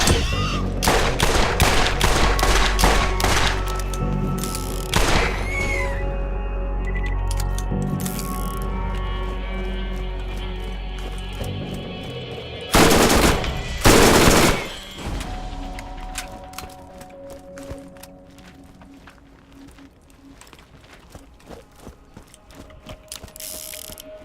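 Submachine gun fire in the video game Borderlands, with loud rapid bursts of mechanical gunfire and ratcheting reload clatter, then quieter clicks and game effects trailing off toward the end.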